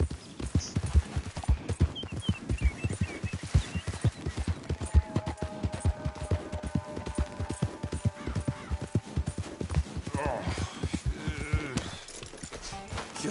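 Horse hooves clip-clop steadily in Red Dead Redemption, a rapid galloping rhythm close and loud throughout, with a brief whinny-like cry and faint game sounds layered in.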